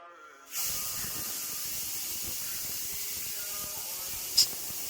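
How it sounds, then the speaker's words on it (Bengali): A pressure cooker with its lid on, heating on a gas stove, lets out an abrupt, loud, steady hiss of escaping steam that starts after a moment of quiet and continues unbroken to the end. "ঢাকা লাগিয়ে গ্যাসের উপরে বসিয়ে দিলাম 3টা সিটি মারার জন্য"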